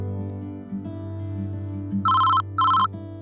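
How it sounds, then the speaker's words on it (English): A desk telephone gives two loud, shrill ring bursts close by, separated by a short gap, over a steady low hum. "The phone rang at my desk one day."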